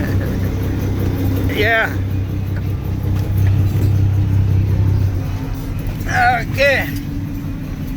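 A truck's engine rumbles low and steady on a trip to a Peterborough stone quarry, then swells slightly as the truck pulls away. Someone speaks briefly over it, and a couple of short chirps cut through.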